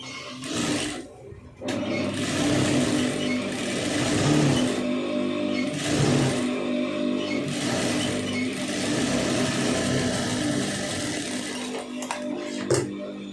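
A sewing machine stitching a lined blouse, running in long, continuous whirring bursts with short pauses and a soft mechanical hum, close up.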